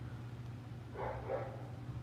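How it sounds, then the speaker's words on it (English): A big dog barks once or twice in the distance, muffled and faint under a low steady hum, with no one speaking. "I hear a dog."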